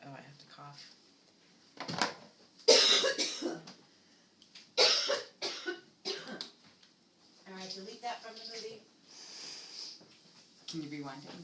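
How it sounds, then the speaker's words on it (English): A person coughs in a kitchen while preparing a spinach salad, giving a couple of sharp, close bursts with throat clearing and sniffs between them. Quiet talk comes before and after. "Oh, I have to cough."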